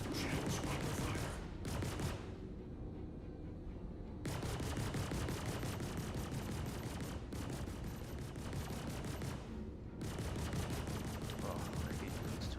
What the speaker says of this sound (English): Shields under fire.